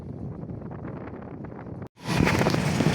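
Wind rushes against the microphone at the plaza of Jose Panganiban, Camarines Norte, a muffled rumble that briefly cuts out, then returns louder and broader as a steady gusty roar.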